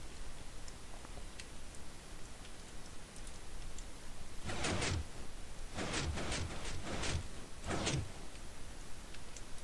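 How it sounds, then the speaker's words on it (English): A 4x4 door system in Minecraft operates in a quiet stretch: a series of short, sharp mechanical clacks comes in uneven pulses over a soft background hiss. "This is a 4x4 door system that Lex was working on."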